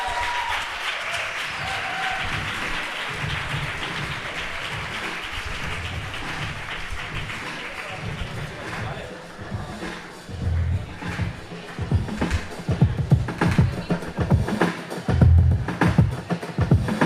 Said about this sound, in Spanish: Vamos a dar un gran aplauso para Pello Lecumberri de nuevo en el escenario.